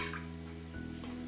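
Water being poured into a small pot, about half a cup, as the start of a lemon sauce: a steady close liquid stream with a faint tonal ring, shifting partway through, with no talk.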